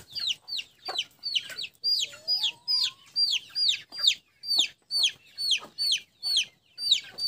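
Kabir chickens cluck close by in a rhythmic string of short, sharp calls, roughly two per second, with no talking.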